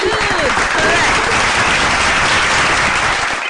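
A studio audience at a children's quiz show applauds a correct answer, sustained loud clapping from many hands filling the space, with a voice talking over it.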